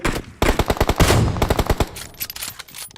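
Rapid automatic gunfire in a battle royale shooter, close and loud, in two dense bursts of evenly spaced shots, then a scattering of fainter distant rounds.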